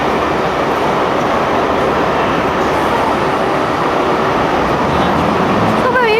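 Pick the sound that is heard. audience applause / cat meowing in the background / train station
train station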